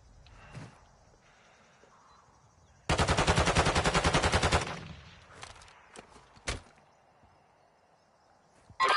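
Video game gunfire: a sustained rapid automatic burst of about two seconds, loud and close, followed by a few scattered single shots and thuds over a quiet background.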